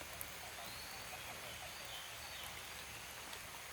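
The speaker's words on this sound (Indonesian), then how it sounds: "di kesempatan hari ini hujan ya" Steady rain falls across an oil palm plantation, a dense, even hiss of drops on leaves and ground with no breaks, soft and distant, with nobody speaking.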